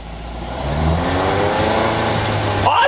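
A hot rod Yugo car accelerates in fourth gear after the clutch is released, its engine note rising steadily and loudly over a few seconds with a rising whine, close and continuous.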